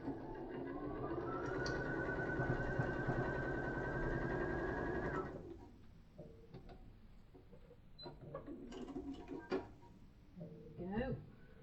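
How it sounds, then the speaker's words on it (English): A sewing machine running a top stitch on a pouch, a steady whirring drone for about five seconds that then stops, followed by clicks and handling noises under talking. "Let's just put a top stitch on this."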